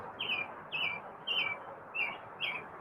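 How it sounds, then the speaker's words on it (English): A small bird chirps close to the microphone, giving five short, bright chirps at a steady, evenly spaced rhythm over a low, constant background hum, with no talking. "you do hear the birds"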